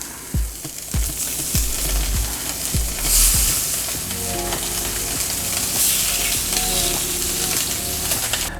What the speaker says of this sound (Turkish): İyice sıcak tavam. Ve tavuklarımı tavama alıyorum.